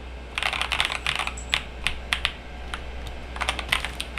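Rapid bursts of key presses on an AJAZZ AK873 mechanical keyboard during an NKRO test, clustered clacks in quick flurries with short pauses, close and clear over a steady low hum, no voices.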